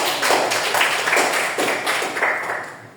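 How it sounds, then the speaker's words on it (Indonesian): A small group of students claps in a classroom, a brisk run of overlapping claps in a few rhythmic bursts that fades toward the end. "Tepuk tangan."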